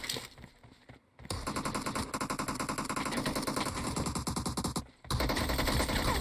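Rapid automatic gunfire from PUBG Mobile crackles in dense, continuous bursts, loud and close, with a brief pause near the start and another short gap before the firing resumes.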